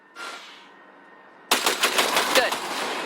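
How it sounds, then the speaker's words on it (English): A short, loud burst of automatic gunfire from a weapon in the video game Cyberpunk 2077 rings out after a quieter electronic tone, with rapid shots in a fast stuttering rhythm that stays close and dense. "Fire a short burst into it."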